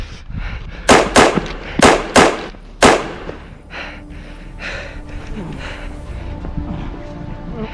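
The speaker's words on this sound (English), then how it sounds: "Why'd you shoot me?" Gunfire in a 2021 war film trailer: five sharp, loud cracks in quick succession over about two seconds, followed by quieter rustling and faint background sound.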